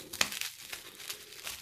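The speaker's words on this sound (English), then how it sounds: "So let's get some scissors out." Scissors cut open packaging holding scrap silver, producing close, soft crinkling and crackling of plastic or foil. A sharper snip stands out early, followed by scattered rustles, all fairly quiet.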